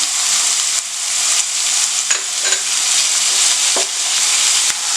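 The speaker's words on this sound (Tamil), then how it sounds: "வெங்காயம் வந்து வதங்குது" Onion and pineapple sautéing in a pan, a loud, close, steady hissing sizzle with a few scraping stirs of the spoon breaking through, and no talk.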